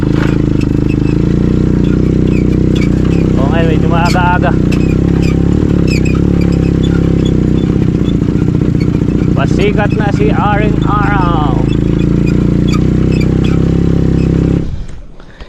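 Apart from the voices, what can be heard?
boat engine running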